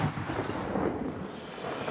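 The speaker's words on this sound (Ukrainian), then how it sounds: "Гармата!" A deep, rumbling boom with a long rolling low-frequency tail as an artillery cannon fires in the distance near Toretsk, continuous and fairly loud throughout.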